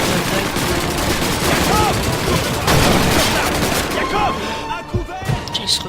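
Battlefield gunfire in the video game Call of Duty 2: dense, overlapping rifle and machine-gun bursts crackle continuously, with a few louder nearby shots near the end.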